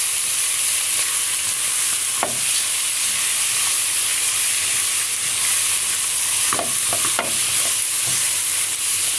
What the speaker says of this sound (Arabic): وندي الجمبري تقليبه كده مع الصياديه